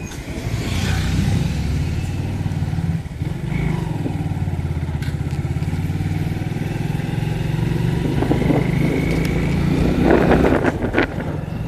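A motorcycle ridden along a road in Kathmandu, with its brakes adjusted tight. The engine drones steadily and close throughout, with slight revving swells and passing road noise, and no talk.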